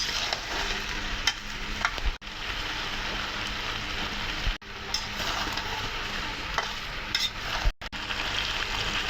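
Sweet pumpkin and chicken curry sautés in a pan, a loud close sizzle with steady stirring scrapes throughout, briefly cut off by a few abrupt gaps.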